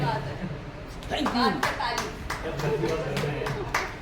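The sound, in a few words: audience clapping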